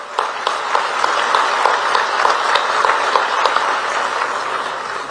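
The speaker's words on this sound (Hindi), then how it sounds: "ताली हो तो ठीक ठाक हो जाना।" An audience applauds at a formal award ceremony, with dense, even clapping sustained for several seconds from a crowd in a large hall.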